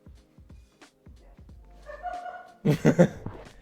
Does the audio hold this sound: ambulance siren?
no